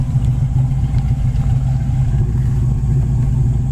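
A 1979 Pontiac Trans Am engine rumbles loud and close through a new dual exhaust with a deep, throaty note, running steadily without pause.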